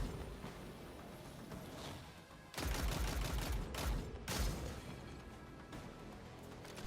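Gunfire in the shooter game Destiny 2, a solo Grandmaster Nightfall run as a Hunter: two loud bursts of rapid shots rising out of a busy background of in-game sound effects.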